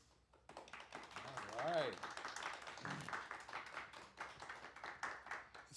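Audience applause follows a folk-tale reading about Bear: scattered clapping rises under a talking voice and stays fairly faint beneath the speech throughout.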